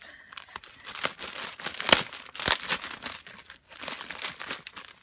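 Packing tape pulled and crinkled while unwrapping a shipped package, a close series of crackling, crumpling and tearing bursts in irregular rhythm, with brief pauses between them and no voices.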